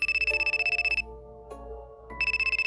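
A phone ringtone trills in rapid pulsing bursts during a call in the video game Tokyo Debunker, stopping briefly with soft tones in between before the trilling resumes.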